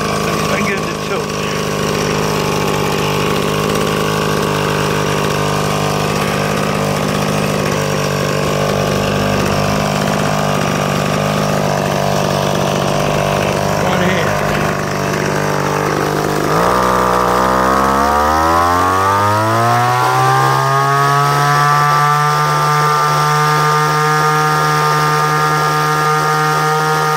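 A Mantis SV-2AE tiller's small two-stroke engine runs steadily on a newly fitted ZAMA carburetor, a loud, continuous buzz that drops abruptly partway through to a smoother, rising idle before settling into a steady hum.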